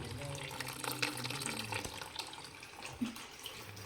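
Faint, steady trickle of water siphoned through a hose from an aquarium into a container, quiet and continuous with small gurgles.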